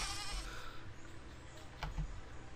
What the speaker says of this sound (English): You evil sheep.